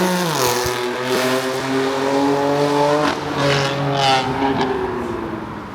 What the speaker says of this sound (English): All of the turbo cars.